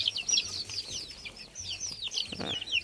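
Chickens cluck steadily in a farmyard, a dense run of overlapping clucks and chirps from several birds at moderate distance, with no talk.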